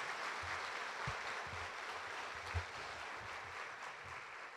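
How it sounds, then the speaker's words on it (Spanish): Applause from a crowd at a graduation ceremony, a dense steady clatter of many hands clapping, fairly distant and even throughout. "Yo pediré un aplauso para todos ustedes jóvenes"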